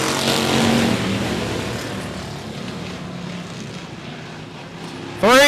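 Race cars at 105 Speedway roar past at the start, a loud, dense engine drone that fades slowly, before a sharp rising whine at the end.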